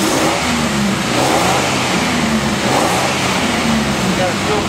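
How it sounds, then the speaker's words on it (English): A Chevy Blazer engine with a newly replaced fuel pump revs and accelerates in steady, loud rising pulls, up close under the hood, with a voice talking over the engine noise. "Engine accelerates well."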